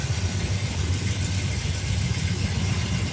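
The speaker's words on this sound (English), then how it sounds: "we really got to do something with the exhaust. It hangs way too low, looks really stupid, but it sounds good" A 1966 Dodge Coronet V8 rumbles through a low-hanging exhaust, a steady loud, throaty burble with a pulsing low-end beat that runs continuously without voices.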